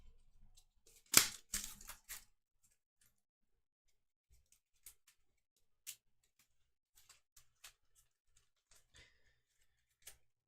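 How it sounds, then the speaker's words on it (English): Hit location cards from the Kingdom Death: Monster board game being shuffled: a quick burst of riffling card noise early on, followed by sparse, faint ticks and taps. No voices. "Just going to shuffle the hit location deck."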